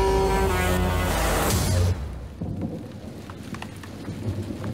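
A heavy downpour and rolling thunder fill a movie scene, a loud rumbling roar in the first two seconds giving way to steady hissing rain with faint crackles.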